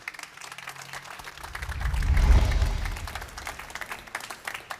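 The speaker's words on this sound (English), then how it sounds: "He will need an extra applause to come to the stage." At the IAA Mobility 2021 startup awards, an audience applauds a startup CEO walking to the stage, the clapping swelling to a peak midway and then easing back to a lighter patter.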